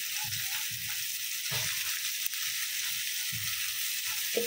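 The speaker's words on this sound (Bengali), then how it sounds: "একটু লাল করে ভেজে নিই পেঁয়াজটা ভালো করে" Chopped onions frying hard in a pan on a gas flame turned up high, giving a steady, dense sizzle that runs unbroken throughout, close and fairly even in loudness.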